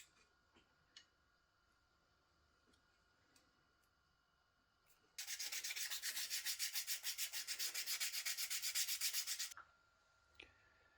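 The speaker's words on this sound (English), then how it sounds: "I finished sanding the straps, so now I have smooth edges," About four seconds of rapid, even scratchy rubbing as a crocodile leather watch strap edge is sanded, starting and stopping abruptly amid a quiet room with faint clicks.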